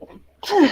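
A person gives a single short, sharp sneeze right after a brief spoken word.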